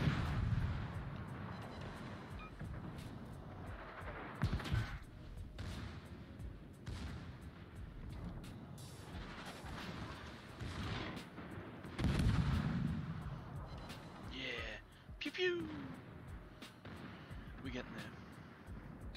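A warship's secondary cannons fire in a video game, with repeated booms and blasts rolling through a battle while people talk over them.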